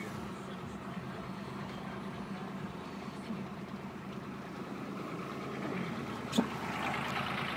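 A cold Nissan Patrol engine idles just after being started, a steady low rumble held throughout, with a single brief knock near the end.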